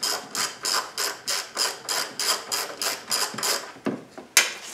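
Hand ratchet loosening the front strut bolts on a 2006 Honda Odyssey, with a rapid run of evenly spaced metallic clicks, loud and close, ending in a couple of sharper knocks.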